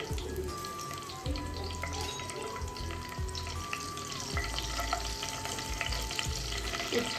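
Curry leaves and green chilies sizzle and crackle in hot oil in a pan, a steady close frying hiss with soft stirring clatter throughout, no voices.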